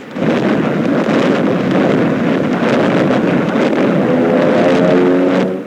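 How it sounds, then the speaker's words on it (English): Japanese torpedo planes skimming low over the water attack an aircraft carrier in wartime, heard as a loud, unbroken engine roar with a droning tone that grows near the end. "We are being attacked by Japanese torpedo planes skimming in after us"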